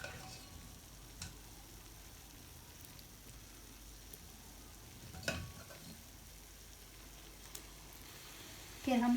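Chicken goes into a pot for chicken tikka biryani and sizzles with a low, steady hiss, broken by a few faint clinks and a louder scrape at the end.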